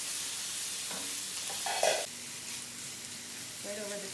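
Vegetables sauté in a pan over medium-high heat for gnocchi sauce, a steady low sizzle with brief stirring clatters and a short louder burst partway through, with a voice faintly heard at times.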